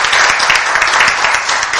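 Audience applause at a venture-policy discussion forum in Korea, a short, loud burst of dense clapping from a seated crowd that stays steady throughout.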